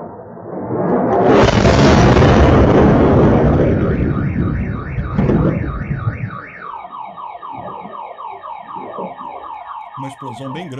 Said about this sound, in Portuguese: Uma explosão bem grande ali, né?